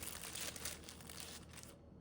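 A small plastic bag from genuine OEM Oakley Echelon M frame parts crinkles and rustles steadily while being handled during unpacking, close and fairly quiet, ending with a sharper crunch.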